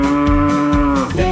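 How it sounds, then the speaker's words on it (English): A cow on a farm moos in one long, loud, close lowing call with a steady tone that bends down near the end, alone without talk. "On his farm he has some cows."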